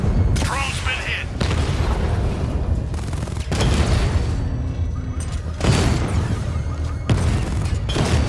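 Heavy gunfire battering a drone in Batman: Arkham Knight, a loud run of rapid impacts and booming bursts in several surges, with a voice announcing over the fight.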